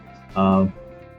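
A drawn-out, tonal yowl rises in the background for about a third of a second, loud and harmonic, then fades back into quiet room noise.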